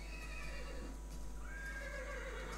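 A horse in the Minecraft video game neighs in two shrill whinnies with falling pitch, one early and a longer one later, clear and fairly close over a low steady hum.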